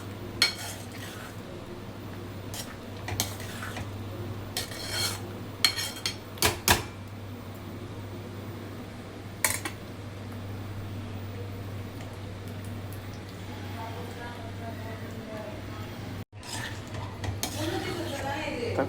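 Tomato pickle being stirred in a pan, with scattered scrapes and knocks of a spoon against metal over a steady low appliance hum, intermittent and moderately close.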